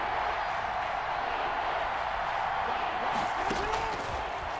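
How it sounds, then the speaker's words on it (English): Stadium crowd cheering during a football game in Madden 21, a dense, steady roar of many voices ahead of a big third down, with faint commentary underneath. "the crowd getting into it as we come up on a big 3rd down"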